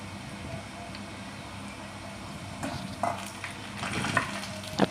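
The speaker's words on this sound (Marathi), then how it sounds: "लसूण चांगलं फ्राय करून झालेला आहे" Garlic frying in a pan until reddish, a steady soft sizzle with a few stirring scrapes and clinks in the second half, close and moderately loud.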